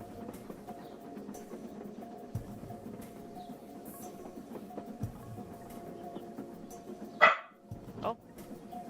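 A dog barks once, loud and close, near the end, over a steady background hum with low talking in the room.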